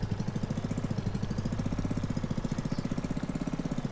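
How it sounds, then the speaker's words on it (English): A golf cart engine in Garry's Mod runs steadily with a fast, even putter, close and fairly loud, with no talk over it. "Bro, I'm in a golf cart. In the back room, bro. Y'all are gonna be able to hear my golf cart."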